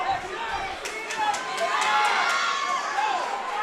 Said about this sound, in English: He's feeding off of the crowd's energy. They're cheering him on